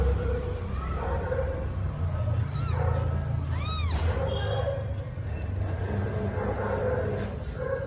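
A mother cat, birthing her first litter just after delivering a kitten, meows twice in clear rising-falling cries over a steady low background hum.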